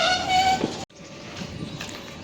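Dhari to Junagadh passenger train pulling into Dhari station, a loud horn blast sounding near then cutting off, followed by steady rumbling wheel and engine noise.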